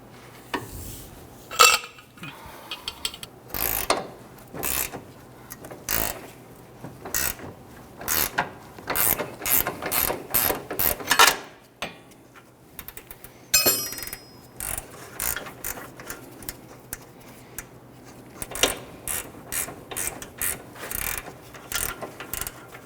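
A ratchet wrench breaks free and spins off a control arm nut on a Dodge Charger, with repeated bursts of close, crisp clicking separated by short pauses, loud and alone.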